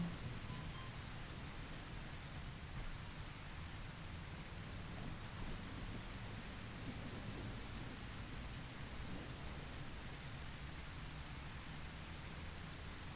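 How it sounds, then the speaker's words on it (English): Steady rain hiss and a low rumbling thunderstorm roll on without a break in a video game, broadband and even throughout with no distinct claps standing out. "Thunderstorm."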